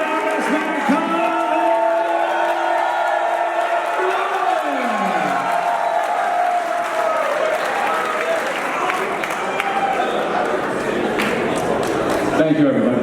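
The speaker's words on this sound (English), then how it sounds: "a great round of applause" An audience at a speech event gives steady, sustained applause with scattered whoops for several seconds, with a voice speaking over it.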